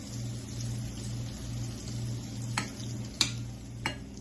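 Malanga fritters frying in very hot oil, a soft continuous sizzle and bubbling with a low hum beneath and a few sharp clicks and taps near the end.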